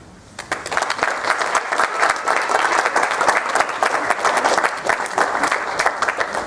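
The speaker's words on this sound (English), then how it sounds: "let's take a moment, and you should applaud your parents" A commencement audience bursts into applause for the graduates' parents, a dense, even wash of many hands clapping that starts abruptly and holds steady at full volume.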